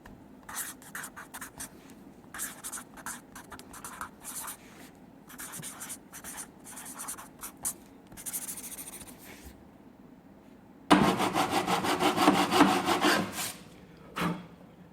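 A blade carves out a groove in the hull of a radio control hydroplane for the prop shaft, giving bursts of rapid scraping and rasping strokes, close and intermittent, followed by a louder sustained stretch of vigorous scraping.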